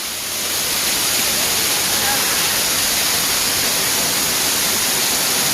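Beaver Falls at Havasupai, heard from beneath the waterfall: a loud, steady, broadband roar of pouring water that swells in over the first half-second and then holds constant without a break.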